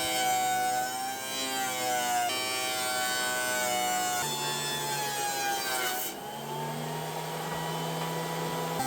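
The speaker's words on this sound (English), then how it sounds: "I start by making one side perfectly flat on all of the pieces on my small joiner." A small jointer flattening glued wood pieces, a loud sustained whining machine tone whose pitch shifts as each pass cuts, alone without talk.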